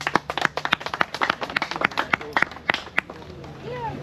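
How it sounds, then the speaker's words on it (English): A small group claps after a cycling race in Zambia, the Mwembeshi Cycling Classic, with sharp distinct hand claps in an uneven rhythm that thin out toward the end, where a voice and outdoor noise remain. "I think we can give ourselves a round of applause"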